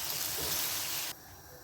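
Water pours steadily into a pan of cooking chicken tikka, a bright rushing hiss that stops abruptly after about a second, leaving a faint simmer behind.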